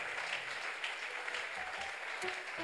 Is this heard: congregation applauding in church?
yes